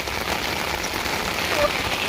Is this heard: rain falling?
yes